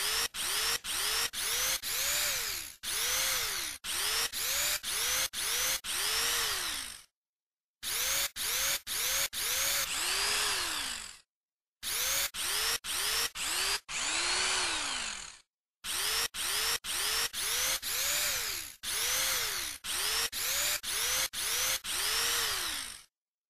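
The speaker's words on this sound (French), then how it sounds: "le son de cet instrument conviendrait mieux à une perceuse" A whirring, drill-like tone revs up and down in quick repeated bursts, broken by brief silences, loud and close.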